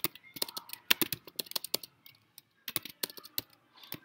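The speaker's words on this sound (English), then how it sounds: "Sorry for my typing." Quick, crisp keystrokes on a computer keyboard, irregular clusters of sharp clicks with brief gaps, close and clear with no voice over them.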